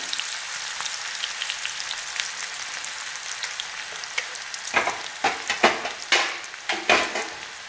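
Coarsely crushed garlic hits hot oil in a pan where green chillies are already roasting, giving a steady sizzle. From midway come louder, rhythmic clatters and scrapes of stirring, with no voices.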